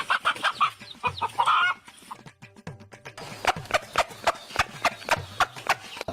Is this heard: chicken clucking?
yes